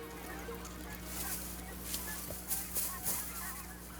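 Canada and white-fronted geese honk repeatedly at a distance over a low steady hum, their calls rising and falling in scattered bursts.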